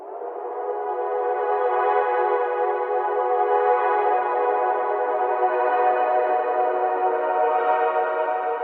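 A sustained, layered synth chord for melodic house swells in and holds steady, bathed in long washy external reverb that makes it feel distant and atmospheric.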